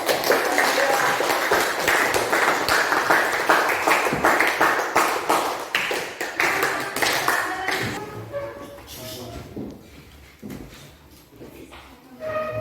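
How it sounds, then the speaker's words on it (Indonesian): Dense, loud clapping from an audience at a school teaching-practice meeting, continuous for several seconds before thinning out into scattered claps and murmuring voices. "Kita berikan tepuk tangan untuk"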